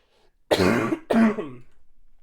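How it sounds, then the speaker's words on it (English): Two loud, close rasping bursts of throat clearing and coughing, one after the other, followed by faint breathy sounds. "I'm gonna cough again."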